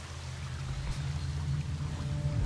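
A waterfall in the video game Alice: Madness Returns gives a steady, unbroken rushing wash of water at moderate level, with no one talking.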